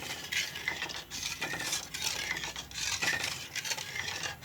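Egg and carrot halwa being stirred in a pan, the spoon scraping and clinking against the metal in a steady, continuous rhythm, close and fairly quiet with no talking.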